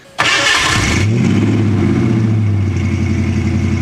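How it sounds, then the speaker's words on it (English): A Ford Fox-body Mustang with two-chamber Flowmaster exhausts starts with a sharp whine, then settles into a deep, loud, rumbling idle with a burbling exhaust note. "I've got the 2-chamber Flowmasters on this car. They sound good."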